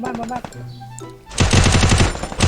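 Gunfire in a ranked 4v4 video game match, a rapid loud burst of automatic shots filling the second half, preceded by scattered game sounds and effects.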